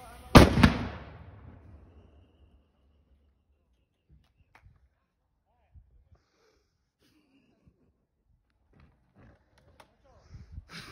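A firecracker explosive bursts once beneath a trailer with a loud, sharp bang up close, then decays into near silence, with a few faint knocks and scuffs afterward.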